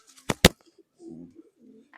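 Two sharp loud flaps or claps, then soft low pigeon coos murmuring nearby with short pauses.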